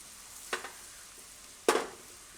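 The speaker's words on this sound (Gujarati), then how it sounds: "આમાં શેકાઈ જશે સરસ તેલમાં આ રીતે" Whole spices hitting hot oil in a pan for a Gujarati methi tomato curry, giving two short sizzling bursts, the second louder and longer, in an otherwise quiet kitchen.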